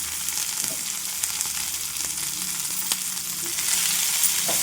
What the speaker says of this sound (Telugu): ఇప్పుడు వీటన్నిటిని అటు ఇటు తిప్పుకుంటూ చక్కగా ఫ్రై చేసుకోవాలి.